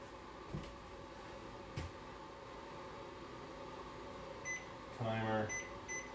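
A kitchen timer gives a short run of electronic beeps near the end as it is set for 90 minutes, heard fairly quietly over a low steady room hum.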